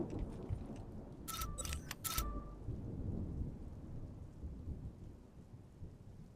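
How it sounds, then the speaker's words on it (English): Thunderstorm in the Ground Zero game, with steady rain and low rumbling thunder filling the clip, plus a short cluster of sharp clicks near the middle; no talk. "I think there's a thunderstorm."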